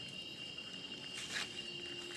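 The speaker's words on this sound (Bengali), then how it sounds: "এই যে চারিদিকে জঙ্গলের ঝিঝি পোকার ডাক" Crickets in a jungle at night keep up a faint, steady high chirring, with a soft rustle swelling briefly midway and no speech.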